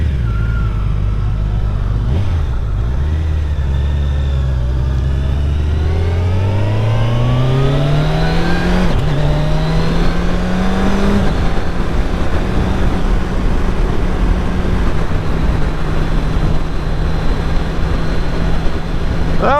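A 2021 Kawasaki Ninja 1000SX sport bike accelerates hard from a stop, its engine climbing through rising revs with upshifts, then settling into a steady roar, close and loud with wind noise and no talk.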